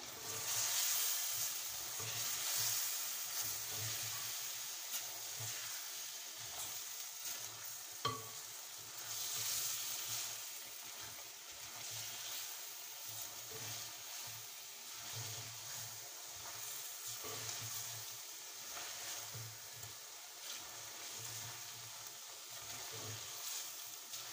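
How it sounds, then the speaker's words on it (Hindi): Spices and coriander powder fry in a pan for Kashmiri-style tinda gosht, giving a steady, close sizzle that carries on without a break and with no talking. "अब इन मसालों को दो से तीन मिनट तक पकने दूंगी"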